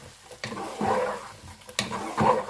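Keema with spices and chopped medium tomatoes being stirred in a pan, a soft scraping and gentle sizzle with a couple of louder clattering strokes of the spoon against the pan, no talking.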